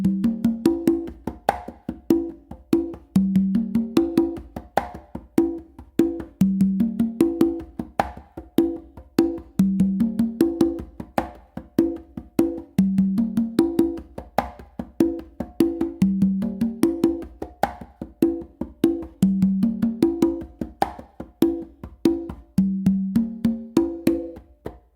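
A melodic funk groove is played slowly on congas, with crisp hand strikes in a looping, repeating pattern of open tones and lighter ghost notes, close and dry with no talking over it.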